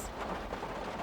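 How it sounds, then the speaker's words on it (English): Rain falling on a converted cottagecore bus used as a full-time home, heard from inside as a quiet, steady, dense patter with no voices. "And then it started raining, which naturally led to this."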